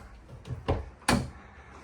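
A couple of soft, muffled thumps a fraction of a second apart, a soft-close kitchen drawer in a Grand Design Influence 3203GK fifth-wheel RV gliding shut and settling gently, in an otherwise quiet room.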